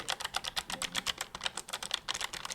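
Rapid, crisp clicking of gaming keyboard keys being typed on close up, an irregular run of sharp clacks with no talking.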